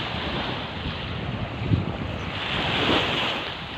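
Waves wash continuously onto a beach at San Juan, Batangas, a full hissing roar that swells near the end, with some wind noise over the microphone.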